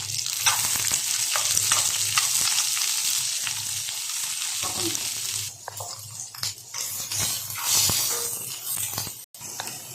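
Chopped onions fry in oil for poori masala with a bright continuous sizzle and light stirring scrapes, loud at first, then settling into softer crackling and clinks.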